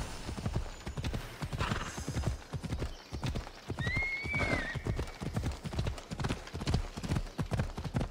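A horse gallops in Assassin's Creed Odyssey, its rapid, steady clip-clop of hooves running close and loud throughout, with a brief whinny partway through and game ambience underneath.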